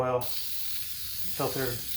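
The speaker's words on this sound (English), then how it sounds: "I use the aerosol spray oil" A steady, soft hiss of aerosol air filter oil spray, used on a Yamaha YZ250 two-stroke dirt bike's air filter, runs for about a second, between bursts of nearby talking.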